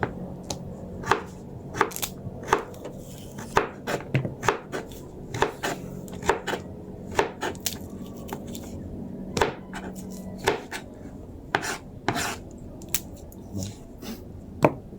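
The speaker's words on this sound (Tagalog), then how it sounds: "atin na po itong hiwain itong celery" A knife chops celery on a cutting board while meatloaf and lumpia are being prepared, giving sharp, close, irregular chops that come in quick clusters over a quiet background.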